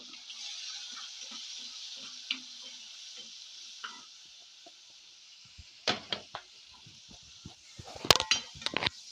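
Sliced onions with salt and turmeric frying in a pan, a faint steady sizzle with scattered clicks and scraping stirs that grow busier near the end.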